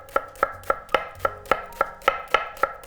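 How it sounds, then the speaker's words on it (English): A knife slices food super thin on a cutting board, giving about ten crisp, evenly spaced taps close up in a quick steady rhythm. "Now, you just want to slice these super thin."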